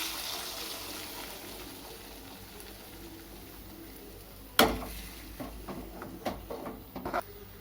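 Five eggs go into a frying pan with ginger-garlic paste for chicken fried rice; after a quiet, low sizzle comes a sudden splash, then soft scraping and stirring clatters of mixing up close.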